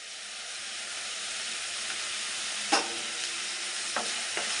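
Onions frying in a pan give a steady, close sizzle throughout, with a few brief stirring scrapes and taps standing out over the hiss.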